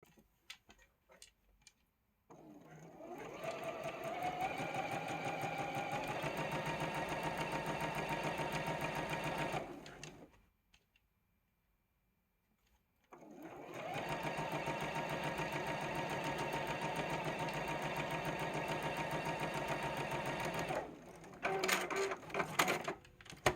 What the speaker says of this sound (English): we're going to sew this 1/4 inch all the way down